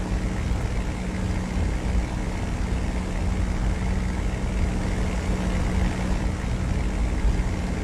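Propeller aircraft drone in a flight simulator game, a steady, continuous engine hum with a constant low tone, loud and unbroken from start to finish, with no voices.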